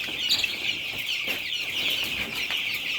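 Eleven-day-old chicks, kept with broilers, cheep and cluck constantly and close by, a busy high chirping chorus with no voices.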